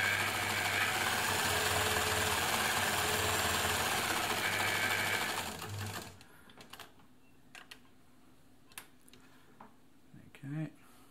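An ELNA Supermatic sewing machine stitches with a steady, loud mechanical whir for about six seconds, then stops. Faint clicks and handling knocks follow in the quieter remainder.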